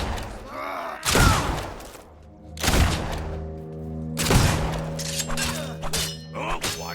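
Gunfire and impacts in the video game Fable 2, several loud sharp bursts spaced about a second or two apart, each trailing off over a sustained tonal game background.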